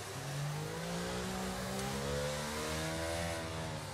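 Formula 1 cars in the F1 22 racing game at the Singapore Grand Prix, a loud continuous engine whine rising and falling in pitch as several cars run close together in a train.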